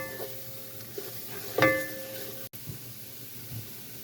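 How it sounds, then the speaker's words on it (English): Tomato paste fries and browns in a roux for a catfish courtbouillon, giving a soft, steady sizzle with a brief stir or scrape in the middle and a faint clatter of the pot. "tomato paste is going to fry down nice up in that roux"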